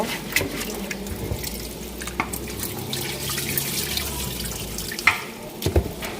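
Tap water runs weakly into a pot, a soft continuous trickle with occasional splashes and small clinks, close and alone.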